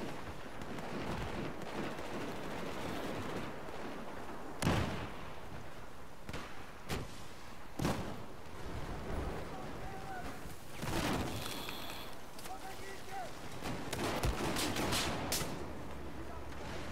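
Gunfire in the shooter game Battlefield 4, a series of sharp, loud shots and blasts scattered at irregular intervals over steady background battle noise, with a voice occasionally talking underneath.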